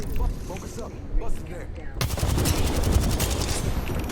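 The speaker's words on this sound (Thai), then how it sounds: "เขายิงกันอย่างนัวเลยค่ะเพื่อน" Heavy, rapid gunfire from the Apex Legends video game crackles continuously as a sustained automatic barrage, with a voice heard over it early on.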